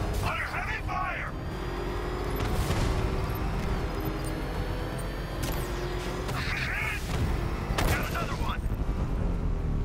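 Rapid bursts of gunfire and scattered shots ring out in the Batman: Arkham Knight video game, a dense, steady barrage under shouting in-game voices.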